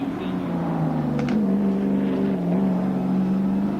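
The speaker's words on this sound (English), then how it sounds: "Dick Johnson has just gone across the line" A Ford Mustang Group A race car at the 1985 Adelaide race gives a steady, fairly loud engine drone whose pitch wavers slightly, with faint commentary voices underneath.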